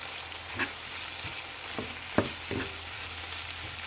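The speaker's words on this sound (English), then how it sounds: "Add the minced pork and continue cooking for 2 minutes." Minced pork stir-frying in a pan gives a constant, close sizzle, with a few scrapes and clinks of a utensil stirring through it and no talking.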